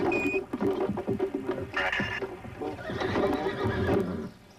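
A horse neighs and whinnies loudly and close by in repeated bursts, with hooves clip-clopping and a brief electronic beep at the start.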